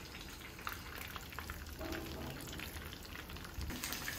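Chicken noodle cutlets frying in a pan, a faint, even sizzle with soft crackles and pops running steadily throughout.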